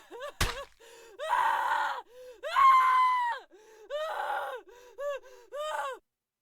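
Strained, gasping screams and groans come in a series of separate bursts after a sharp thud, loud and close, from a creature in the video game Lobotomy Corporation.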